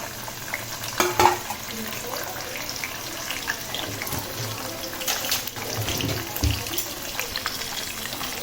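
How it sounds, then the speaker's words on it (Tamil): Garlic and small sambar onions sautéing in hot oil for a kuzhambu, a steady soft sizzle with occasional stirring scrapes and clatters, close and without talk. "ஒரு கைப்பிடி அளவுக்கு பூண்டு, 2 கைப்பிடி அளவுக்கு சாம்பார் வெங்காயம் இந்த எண்ணெயில் நல்லா வதக்கணும்."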